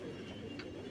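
Giribaz high-flyer pigeons coo softly in a single low, murmuring call over a steady background hum, fairly close and quiet.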